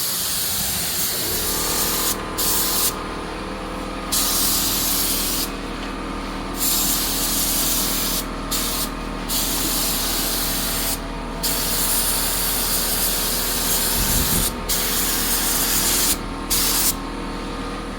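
A spray gun sprays Nason 2K primer in repeated close hissing bursts separated by short pauses, over a constant low compressor hum.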